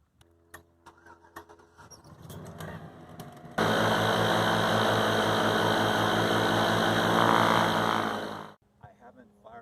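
A Parajet Maverick paramotor's Atom 80 engine, lightly primed after about four weeks unused, bursts into a loud, steady, close-up idle for roughly five seconds before cutting out. Scattered handling clicks come before and after it.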